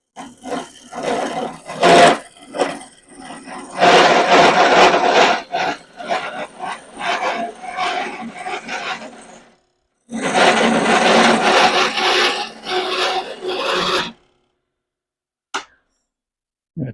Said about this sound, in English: I'm going to switch to my other continental gouge